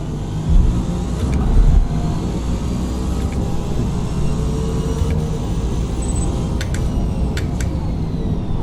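A BMW race car in Forza Motorsport holds a steady engine drone throughout, loud and continuous, with a brief swell early on and a few faint high clicks near the end.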